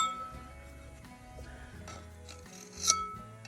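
Screwdriver scraped across the worn inner surface of a front drum brake on a 1967 C30 truck, giving a quiet, uneven rasping and rubbing with a brief metallic clink near the end and no talking.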